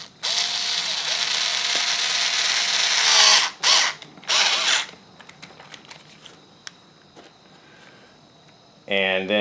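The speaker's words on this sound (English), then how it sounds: "I'm gonna put these 2 screws in the back posts." A power driver runs screws into the back posts of a base plate for a ZD Racing Pirates 3 RC car, giving two close, whining bursts of a few seconds with short breaks, then quiet clicks and handling noise.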